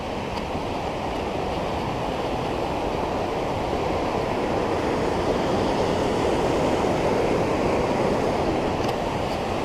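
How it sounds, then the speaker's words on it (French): A mountain torrent rushes beneath a footbridge on a hiking trail near Dormillouse, a loud continuous broadband roar of churning water heard close by, unbroken and steady throughout with no voices. "Ici on traverse déjà un torrent sur une passerelle."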